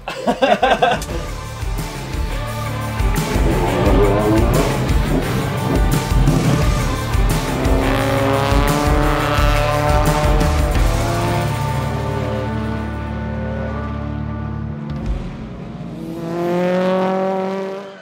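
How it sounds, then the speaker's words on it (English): A British Touring Car Championship race car at Croft, loud engine revving hard, then braking and dropping in pitch as the car pitches left and runs off the road, with engine droning throughout. "In a moment he will brake, and as he does so the car pitches left, he fights it, but it's going off the road."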